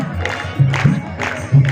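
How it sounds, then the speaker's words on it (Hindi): An audience at a devotional bhajan gathering claps in a steady rhythm, about every half second, with a loud crowd of voices cheering underneath. "ताली बोलो।"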